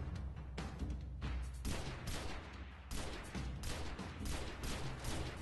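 Sustained gunfire from the video game Destiny, dense repeated shots and bursts running continuously and loudly without pause, with no voices over it.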